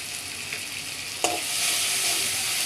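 Ginger and garlic paste with salt fry in a pan, making a steady crackling sizzle, with a sharp utensil knock midway after which the frying swells louder and fuller, and no voices.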